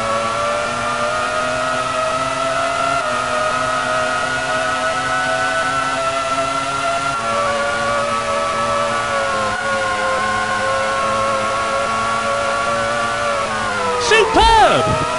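Formula One race cars at Interlagos whine at high revs through steady sustained engine tones, with one car sweeping past close by near the end in a quick pitch-dropping roar.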